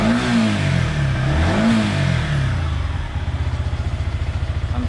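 A Yamaha MT-15 motorcycle engine revs up to around 7,000 RPM, a loud, close rising whine with a slight tick at the top, then drops back to a rapid, pulsing idle-like putter.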